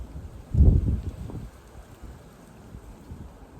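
Wind buffets the microphone in a strong low gust, then settles into a steady, softer rumble.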